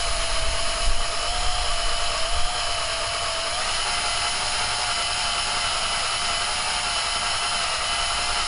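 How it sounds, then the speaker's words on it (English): A power drill bores slowly and steadily into a broken bolt recessed deep in a hole, giving a continuous whine with a few small load changes at the start, then a constant tone throughout. "you can see that we're just drilling down nice and slow"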